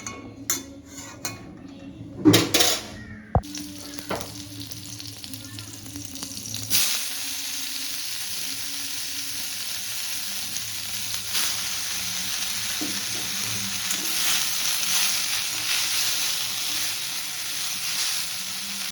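Hot oil sizzling steadily with cumin seeds after a few clinks and knocks of utensils at the start, the frying hiss continuing evenly and fairly loud throughout.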